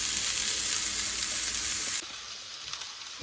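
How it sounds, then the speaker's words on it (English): Steady, loud sizzling of lamb burgers frying in a hot pan, a dense crackling hiss that drops slightly partway through. "So we'll get them frying"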